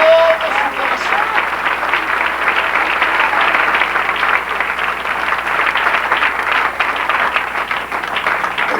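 A church congregation applauds in a sustained, loud burst of clapping that holds steady throughout, with a voice briefly audible at the start over the crowd.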